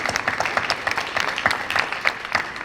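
Applause from the audience at a junior high school National Junior Honor Society induction ceremony greets the new members, a dense steady patter of many hands clapping throughout.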